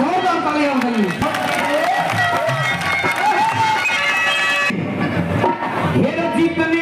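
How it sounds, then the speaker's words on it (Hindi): Loud crowd at an outdoor political rally in Haryana, with clapping and cheering rising under a steady wash of voices and some music or speech-like tones throughout, forming a dense continuous roar. "एक बार जोरदार तालियां हो गई।"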